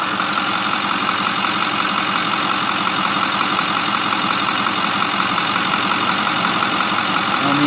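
A 2008 Ford F250 Super Duty diesel 4X4 pickup engine idling at operating temperature, a loud, steady close-up rumble with constant clatter and no talk.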